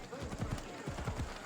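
Horse hooves clip-clop in Assassin's Creed Odyssey, a quick run of close, rhythmic hoofbeats in two short bursts over a busy game background, with someone talking over them.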